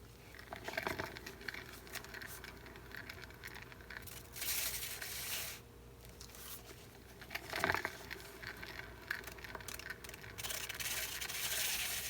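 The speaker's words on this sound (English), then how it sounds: "So I already have to scrape some off." Excess acrylic paint scraped off a surface during a fluid-art swipe pour, heard as a steady rasping, rubbing scrape with brief louder bursts, quiet and close, with no voices.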